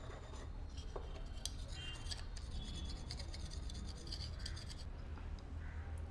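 A screw on an overlock machine is rubbed down with a file, giving a steady, close rasping scrape that continues without pause under a low background hum.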